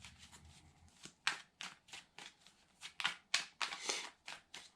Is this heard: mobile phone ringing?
no